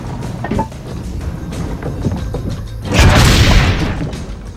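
A single loud gunshot boom in the Assassin's Creed Brotherhood video game stands out partway through, ringing over quieter game ambience and smaller thumps.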